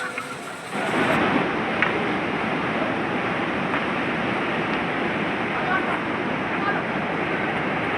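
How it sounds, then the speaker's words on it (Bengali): A loud, constant rush of flowing water roars throughout, broad and unbroken, from a fast mountain river just below on the Kedarnath trek. "আর নিচে এরকম নদী বইছে হাত থেকে, বিভৎস আওয়াজ।"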